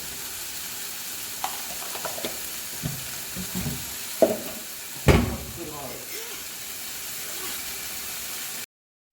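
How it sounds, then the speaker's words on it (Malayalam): Pepper and spices fry in a hot pan with a steady, close sizzle, while a spoon stirs them with several sharp scrapes and knocks against the metal. "അപ്പോൾ ഞാൻ കുരുമുളകും എല്ലാം കൂടെ ഇട്ടിട്ട് പച്ചമണം മാറുന്നവരെ ഒന്ന് ഇളക്കാണ് കേട്ടോ"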